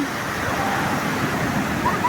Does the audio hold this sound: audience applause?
no